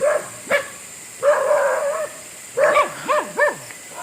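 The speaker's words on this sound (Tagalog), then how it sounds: "May mga aso, guys." Several dogs bark and yelp in short bursts, some barks rising and falling in pitch, fairly close with pauses between volleys.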